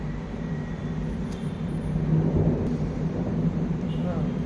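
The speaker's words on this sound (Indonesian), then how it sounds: "Langsung geledek." Thunder rolls low and continuous in an Indonesian outdoor setting, a broad rumble that swells slightly midway and persists throughout without clear speech.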